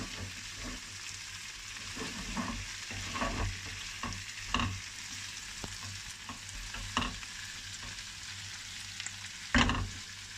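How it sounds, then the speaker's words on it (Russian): Caponata vegetables with cherry tomatoes frying in a pan, a continuous close sizzle broken by irregular scraping and tapping as they are stirred. "Мешаем хорошо."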